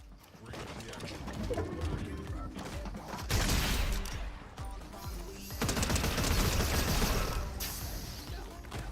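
Repeated shotgun blasts in a multiplayer video game, loud and close, firing in irregular bursts amid dense gunfire and game noise, with a voice talking underneath.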